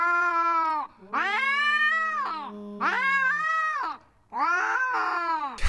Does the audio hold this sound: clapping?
no